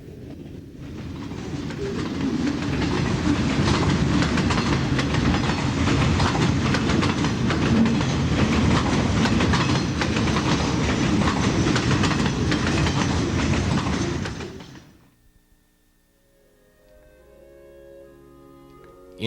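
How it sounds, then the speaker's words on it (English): A long New York, Susquehanna and Western double-stack container freight train rolls past close by, a loud steady roar of wheels and rail clatter that cuts off abruptly, leaving quiet. "mile-long transcontinental double-stack container trains"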